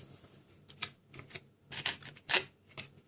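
Card stock being trimmed with a paper trimmer while making a tea light gift box, several quick, close slicing strokes with short gaps between them.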